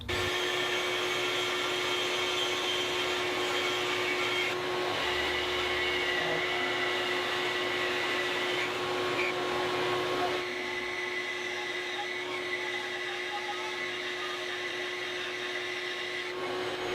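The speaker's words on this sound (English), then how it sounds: "Then I need to resaw this chunk because it's thicker than I want it to be." A small bandsaw resaws a thick chunk of black walnut, giving a steady, loud mechanical whine with a constant pitch and a shift in tone partway through as the cut changes, with no talk.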